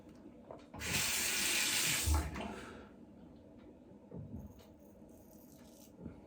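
Hard water gushing from a tap while lathering shaving soap, a loud burst of running water for about two seconds, then cut off, leaving faint handling clatter afterward.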